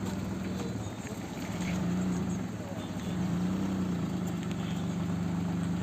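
A car engine idles with a steady low hum as the car reverses in back gear during a driving lesson, a continuous drone running through the whole stretch with faint background noise.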